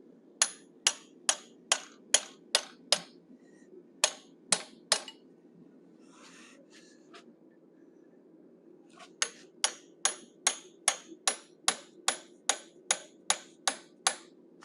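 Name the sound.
hammering a straight cut chisel to forge a cougar head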